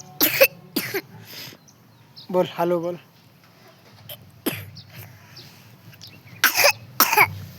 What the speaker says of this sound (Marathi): यायला पण जरा थंडी झाली खोकला लागलाय